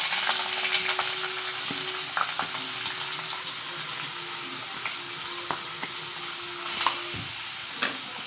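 Onions and curry leaves frying in hot oil in a frying pan give a dense, continuous crackling sizzle with scattered sharp pops, close by and fairly loud, with no voices.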